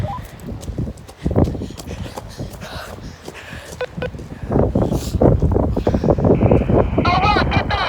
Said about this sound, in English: warning for a big gust coming